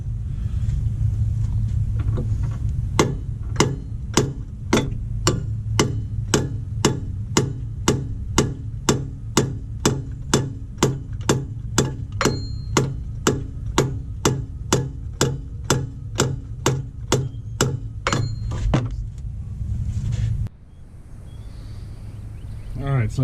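A long run of regular, sharp hammer strikes, roughly two per second, on a part of a Cobra car during an oil leak fix, loud and close over a low hum, ending abruptly before a quieter tail.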